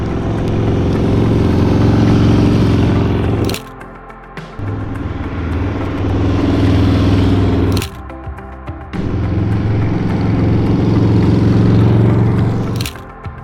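A motorcycle engine drones loudly and steadily at close range, its tone rising and falling in several passes separated by sharp clicks and short dips, with no talking.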